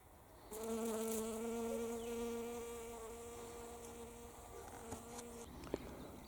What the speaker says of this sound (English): it is very fragrant indeed, and it attracts bees